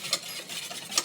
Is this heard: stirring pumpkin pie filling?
yes